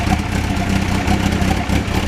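Engine of a restored 2002 Yamaha FZ1000 motorcycle running in a shop, a loud close idle with a pulsing, slightly clattery rhythm and no talk.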